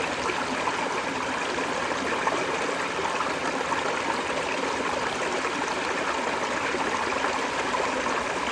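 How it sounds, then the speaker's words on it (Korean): A valley stream rushes and burbles steadily, a constant close flow without pause and no voices. "물소리가 너무 좋아요."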